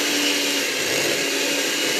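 A steady, loud whirring drone from an electric kitchen mixer that is falling apart, running continuously without pause while mixing a pumpkin cream cheese dessert.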